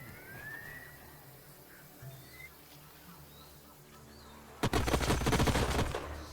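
Burst of rapid gunfire in the sci-fi strategy game Age of Wonders: Planetfall, starting abruptly near the end after a quiet stretch of faint ambient game sounds and bird-like chirps, loud and dense for about two seconds.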